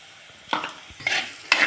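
Sliced onions sizzle in a pan with salt and green chillies as a spoon stirs them, for a kingfish mappas curry. The stirring comes as three short scraping bursts over a soft, steady frying hiss, close by.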